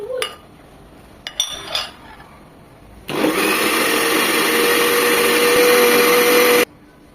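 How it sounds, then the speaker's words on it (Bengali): Soaked bread, eggs and milk for bread pudding whir in an electric blender, a loud steady motor roar of about three and a half seconds after a few light clinks and knocks. "এখন এটাকে আমরা ব্লেন্ড করে নেব"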